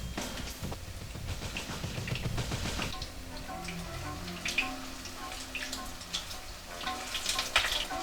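Steady sizzling and crackling of chicken frying in hot oil for General Tao chicken, with scattered pops and spatters, close up and continuous.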